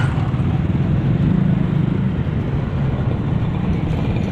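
Steady loud rumble of motor traffic on a street beside a public market in Guagua, engines blending into a continuous drone with no pauses, no talk over it.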